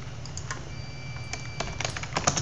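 Keys clacking on a new computer keyboard in a steady run of close, sharp taps that grow busier and louder toward the end, with no talking.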